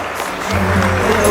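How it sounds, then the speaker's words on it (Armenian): Guests at a traditional wedding in Gyumri applauding, a steady wash of clapping that swells slightly and holds loud to the end, with a low hum of music or voices beneath. "ծափեր տվեք, եթե համաձայնեք"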